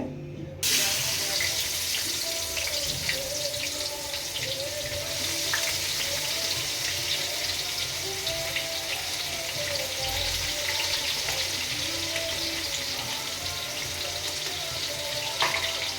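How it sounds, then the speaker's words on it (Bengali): Hot oil sizzles and fries steadily in a pan, a close continuous crackle with little variation and no talk. "এবার দেখা হচ্ছে দেখো তেল হিট হচ্ছে"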